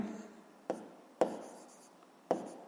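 Chalk or marker writing a physics equation on a board during a lesson, heard as three short, sharp tapping strokes spaced apart, fairly close and quiet, with no talking.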